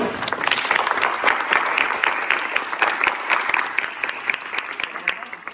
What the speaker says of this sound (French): on applaudit très fort Coralie